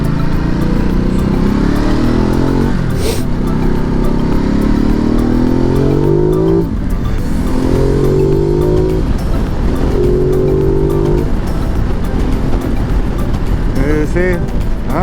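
A Ducati Multistrada 950 motorcycle engine drones loudly throughout, its pitch climbing and dropping in several revving sweeps with wind rush, heard from the rider's position beneath a voice.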